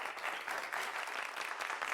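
A short burst of quiet, steady clapping from a 1987 film scene, crisp and even with no voices over it.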